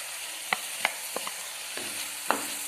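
A spoon scrapes and knocks against a pan in a few sharp, irregular strokes over a steady sizzle of Kerala-style ginger curry thickening with jaggery.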